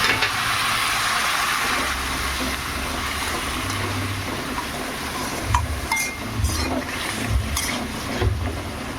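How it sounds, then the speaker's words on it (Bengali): Water is poured from a bottle into a cooking pan in a home kitchen while a Bengali paneer curry cooks, a steady splashing pour with a few light clinks. "আমি বোতল থেকে জল ঢেলে দিচ্ছি।"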